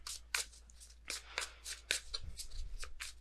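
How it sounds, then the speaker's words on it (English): Tarot cards being shuffled by hand in a series of quick riffling bursts, about a dozen crisp papery flicks in uneven rhythm, close up, with faint low background hum. "Let me get one more card for this."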